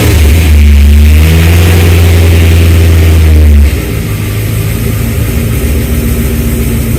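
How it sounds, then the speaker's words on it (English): A square body truck engine fires up after an oil change, roaring loud at first with a high revving surge, then dropping abruptly to a steady, lower rumbling idle. "we do need to fire up the engine so that we can let that oil pump through the system"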